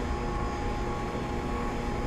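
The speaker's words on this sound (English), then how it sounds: "Aircraft is in the gates." A FedEx cargo aircraft at the gate gives a steady, loud engine and airflow drone, even and unbroken throughout, with no speech.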